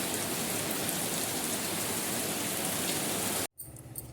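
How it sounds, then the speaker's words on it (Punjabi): Heavy monsoon rain falls in a village in a continuous, loud hiss of downpour that cuts off abruptly near the end. "ਅੱਜ ਤੇ ਪੂਰੀ ਜ਼ੋਰ ਦੀ ਬਾਰਿਸ਼ ਹੈ"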